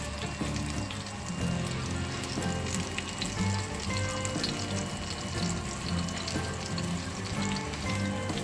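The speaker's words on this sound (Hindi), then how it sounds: "अब मैं इसको फ्राई कर रही हूँ" Chicken kebabs shallow frying in a little oil in a pan, a dense continuous hiss and crackle that stays loud and even throughout, with no talking.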